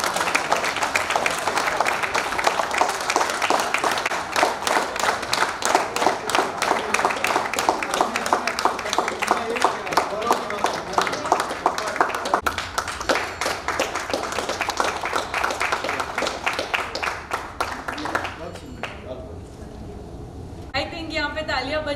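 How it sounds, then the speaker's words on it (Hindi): Sustained applause from an audience at a JCI speech event, dense steady clapping filling the room for about eighteen seconds before thinning out near the end. "आई थिंक यहाँ पे तालियां बजती है और जश्न बनता है"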